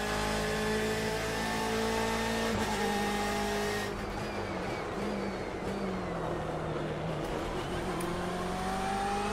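BMW M8 GTE race car in the iRacing sim, its engine droning loud and steady from the cockpit at the green flag, pitch rising through gears then dropping on downshifts, with no talk over it.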